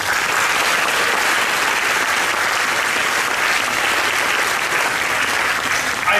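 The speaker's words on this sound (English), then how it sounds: "3 cheers and thunderous applause for all of them." A large film festival audience in Mumbai gives thunderous applause at a closing ceremony, a loud, unbroken roar of clapping hands that stays full and even throughout.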